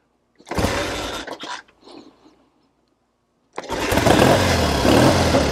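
A 1970 Triumph TR6R motorcycle in neutral is started close by. A short burst of cranking is followed by a faint sputter and a pause, then the engine catches and runs loud and steady.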